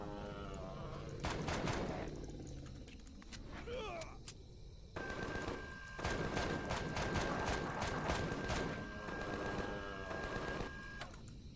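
Automated turret gunfire in the sci-fi survival game Empyrion, Alpha 9, bursts of rapid shots repeating over a busy mix of game effects and a steady electronic tone, fairly loud throughout.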